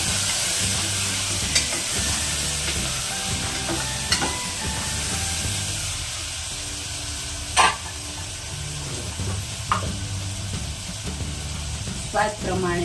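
A pan of potatoes and chori beans being stirred in a home Gujarati kitchen, with a steady sizzle throughout and a few sharp spoon scrapes and clinks against the pan at irregular intervals; no one talks.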